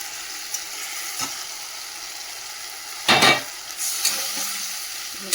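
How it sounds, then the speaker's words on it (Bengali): Spice paste of salt, turmeric, cumin and chilli with a splash of water stir-fried in a pan: a steady close sizzle with a short burst of spoon scraping partway through and lighter scrapes after. "জল দিয়ে মশলাটা ভালো করে কষাবো"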